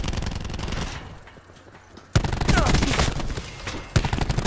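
Gunfire in Call of Duty Black Ops 4 ranked play, loud bursts of rapid shots opening the clip, a brief lull, then heavy sustained firing resuming near and loud with a fresh burst near the end.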